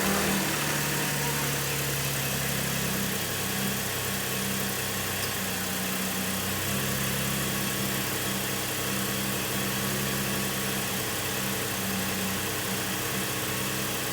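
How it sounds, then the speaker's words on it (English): A Cadillac CTS idles steadily with the air conditioning running, a continuous low engine hum and broadband whir holding even and close for the whole stretch without a break. "So right now, I've got the car on, got the AC running"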